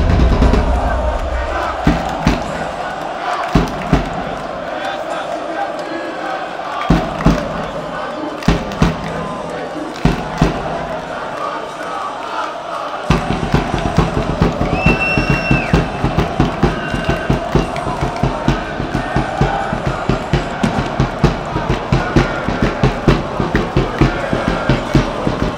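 Pafos FC football fans roar and chant in a packed stadium, with a constant crowd din punctuated by sharp rhythmic claps or drum hits that grow denser and louder partway through.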